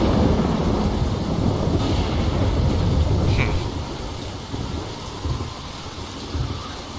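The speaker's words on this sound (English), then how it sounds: "there is a thunderstorm" Thunderstorm rain in The Walking Dead game, a dense, steady wash of falling rain with a low rolling thunder rumble underneath, loud at first and easing slightly toward the end.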